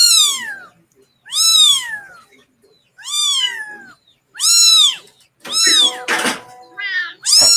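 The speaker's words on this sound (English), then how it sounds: "Those Siamese kittens there." Siamese kittens meow loudly and close, about six separate drawn-out, rising and falling cries spaced a second or so apart, with a brief thump near the end.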